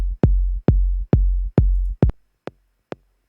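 Self-made kick drum with a high pass filter at 700, heard as a run of punchy clicking hits in a quick steady rhythm that thins out into a few sharp, isolated clicks, dry and alone.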